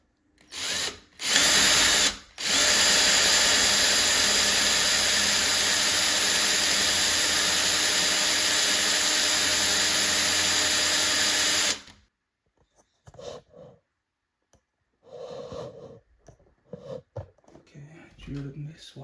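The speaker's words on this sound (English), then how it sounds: "I need to drill a little bit deeper." Power drill boring a deeper hole into wood while assembling a full-size wooden bed, loud and steady for about ten seconds after a couple of short bursts, then stopping into quieter handling noises.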